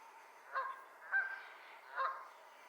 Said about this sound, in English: a gaggle of Canadian geese, honking their horns for all they were worth